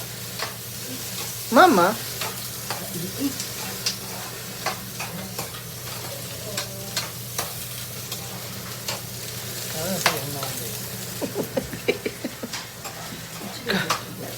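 Tomatoes sizzle and are stirred in a hot pan while cooking escabeche at home, with steady frying hiss, occasional utensil scrapes and knocks, and a woman and others chatting over it.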